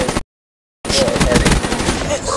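Rapid automatic gunfire from the Black Ops 3 video game, loud and dense bursts after a brief dead silence at the start, running continuously to the end.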